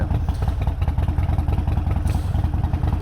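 A 2012 Harley-Davidson Sportster XL 1200 Forty-Eight, custom built, idling loudly up close with a steady, lumpy exhaust pulse and mechanical clatter throughout.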